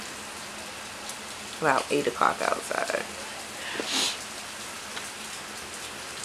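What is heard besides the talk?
rain falling outside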